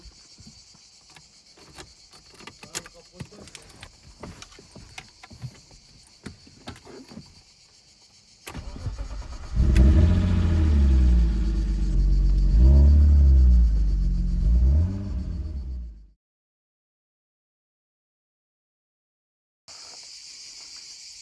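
A BMW E36 six-cylinder engine cranks and catches after quiet background noise, then idles loud and rumbling for several seconds before cutting off abruptly into silence.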